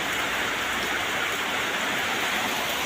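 Heavy rain pours down in a dense, unbroken hiss of drops striking surfaces, loud and constant across the whole stretch with no voices.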